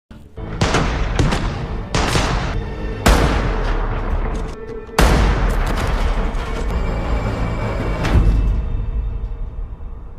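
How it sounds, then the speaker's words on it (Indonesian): A gunfire exchange at a roadside in a zombie-infection story: several heavy, booming shots ring out, each followed by a long echoing tail, loud and close, spaced a second or two apart. "Tiba-tiba terdengar suara baku tembak di tepi jalan."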